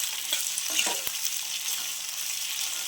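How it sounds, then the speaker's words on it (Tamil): Tomatoes, garlic cloves and chillies sauté in a pan for coriander chutney, giving a soft, even sizzling hiss with a few quick stirring scrapes near the start. "ரெண்டு பெரிய தக்காளி ஒரு பத்து பல் பூண்டு சேர்த்துக்கிறேன் சேர்த்து நம்ம வதக்கிக்கலாம்"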